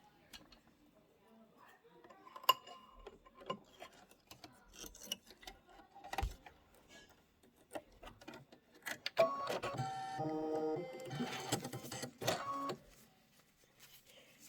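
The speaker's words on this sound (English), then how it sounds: "you are going to stitch out those marshmallows" An embroidery machine stitches out marshmallows in white thread, giving rapid mechanical ticking and clicking bursts close by, with a denser run of stitching near the end, under occasional talk.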